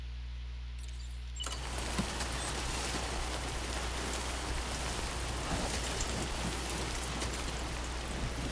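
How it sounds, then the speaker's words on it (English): Steady rain falls in the video game Death Stranding 2, a dense, even hiss of drops that begins abruptly after a quiet second and continues unbroken, with no talking. "it's raining."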